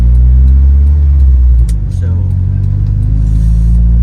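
Close, loud cabin rumble from a B20b-powered Honda Civic on the road, the engine note shifting as it revs midway, with a brief spoken word over it.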